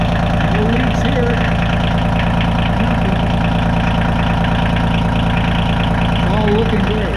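A Kubota L2350 tractor engine idles steadily and close up throughout, a continuous low rumble with a faint voice in the background.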